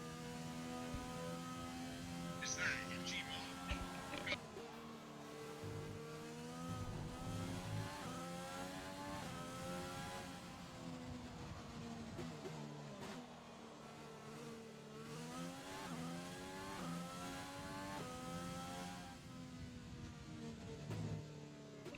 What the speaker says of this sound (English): Go on board just to see what the sound of the car is like when you're on board